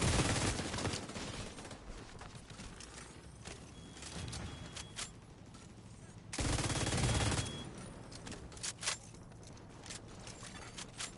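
Gunfire rattles in The Division 2, a dense, noisy burst of shooting with a louder stretch midway, busy game battle sound throughout and no clear talk.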